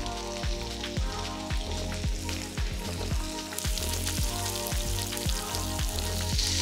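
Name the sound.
ribeye steak frying in pan with butter, garlic and thyme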